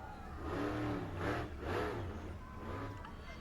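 A Muddy Girl monster truck revs its engine hard at a Ransomville, NY monster truck event, rising and falling in two or three loud surges with crowd and arena noise underneath.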